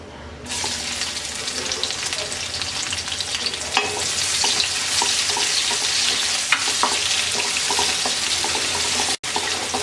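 Chopped onions sizzle in hot oil with bay leaves and dried red chili for a chickpea chola bhuna, a steady, close frying crackle with occasional stirring scrapes and no talking.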